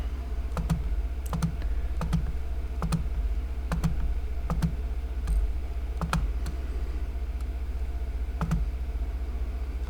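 A calculator's keys being tapped in an even series of crisp, close clicks over a low steady hum, with no talking.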